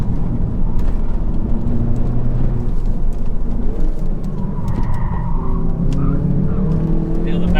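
A car accelerating hard on a winding touge mountain road, likely the Hyundai i30 N Performance or BMW M140i: a loud, steady engine drone with tyre and road noise, with someone talking over it.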